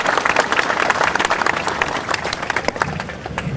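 Crowd at an outdoor political rally with India's defence minister breaking into dense, sustained applause, many hands clapping at once with a broad, roomy sound that holds steady for a few seconds.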